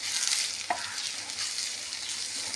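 Chopped amaranth stems frying in oil tempered with mustard seeds and urad dal, making a continuous bright hiss of sizzling up close, with one faint clink of a utensil early on.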